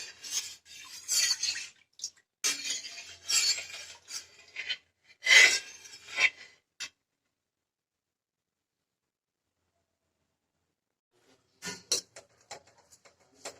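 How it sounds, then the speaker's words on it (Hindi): A spoon scrapes and rubs against a pot of boiling milk being stirred down into khoa, with quiet rasping strokes in bursts, then a long silent pause before a few more light scrapes. "दूध हमारा उबलने लग गया, बीच बीच में चला देती हूँ"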